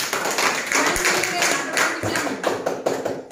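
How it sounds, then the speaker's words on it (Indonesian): A short burst of lively applause from a small class, clapping rapidly and unevenly, with a voice briefly audible beneath it. "Ya, tepuk tangan untuk si Lena."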